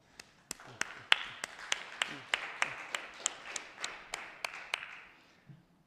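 Small audience at a Chicago Java users' meetup clapping, a sparse group whose steady individual claps ring out sharply and gradually fade over several seconds.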